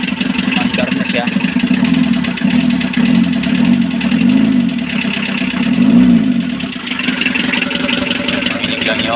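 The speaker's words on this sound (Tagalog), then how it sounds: "Makinig lang yung makina." A car engine idles just after being started following a wiring repair, a loud, steady low hum with a faint wavering pulse and a few light ticks.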